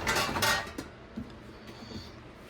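A dishwasher loaded with tea cups, bowls and small utensils is shut, with a burst of clattering dishes and a rattle up front, then a few softer knocks and clinks as it settles.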